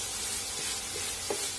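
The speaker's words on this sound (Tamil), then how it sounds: "இந்த மசாலாலாம் இந்த பன்னீர்லயும் நல்லா சேர்ந்து வதங்குற அளவுக்கு நல்லா வதக்கி விட்டுடலாம்" Paneer and masala sautéed and stirred in a pan for a paneer egg omelette, a steady soft sizzle with faint scrapes of the spoon against the pan.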